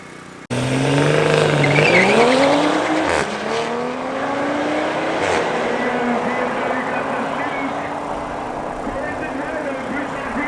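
Drag race cars at Midvaal Raceway launch hard with a loud, close engine roar that climbs through gears, then the sound eases as they run off, with a BMW in the right lane among them and a commentator speaking over the noise.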